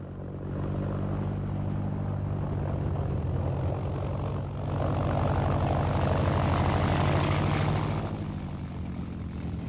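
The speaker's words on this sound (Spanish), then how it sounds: "los pilotos calentaban los 3 motores y reducían las vibraciones igualando las revoluciones" A Junkers Ju 52 trimotor runs up its three engines together, a loud, steady propeller drone with a low, even throb that swells slightly midway, with no voices.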